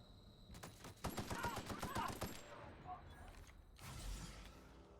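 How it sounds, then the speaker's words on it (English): Video game gunfire crackles in a quick flurry of sharp, rapid shots, fairly loud, followed by a quieter mechanical clatter and a later dull thump, with faint talk in the background. "Who else is shooting at me?"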